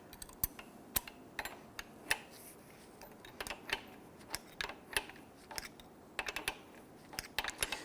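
A wrench turns on the front shock absorber nut of a Nissan Frontier, giving a quiet series of sharp metallic ticks and clicks at an irregular rhythm, close up and alone.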